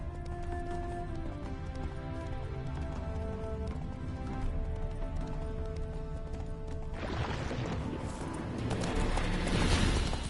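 Roach, a horse in The Witcher 3, gallops with steady clip-clop hoofbeats over dense game music, the rush of movement swelling louder near the end.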